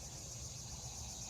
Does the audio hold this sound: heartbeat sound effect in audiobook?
no